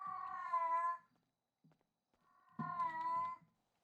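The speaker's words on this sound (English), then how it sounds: "I'm hearing meows." A cat meows twice, loud and near, each meow long and drawn out, with a quiet gap and faint rustling between them.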